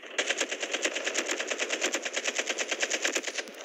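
Rapid automatic gunfire from a weapon in COD Mobile, a steady stream of sharp shots at about eight per second for nearly four seconds, loud and alone with no talk.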